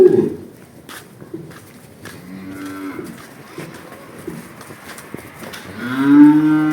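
A large cow moos, a brief low call early on and a louder, fuller moo near the end, with faint shuffling and rustling between them.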